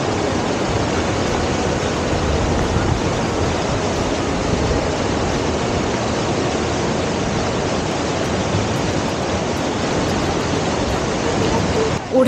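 A large, shallow stream flows over mossy stones past paddy fields on a rural trek, giving a constant broad rushing wash of water, close and even in level for the whole stretch, with no other sounds standing out.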